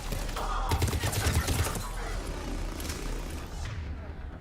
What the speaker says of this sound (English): Seems like turret fire.